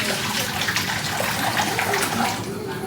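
Excess water is poured off cooked pav bhaji vegetables in a steady, close gush of liquid lasting several seconds.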